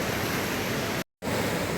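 Ocean surf at Shiroda beach on the Konkan coast, a steady loud broadband wash of waves, briefly cut to silence near the middle before resuming.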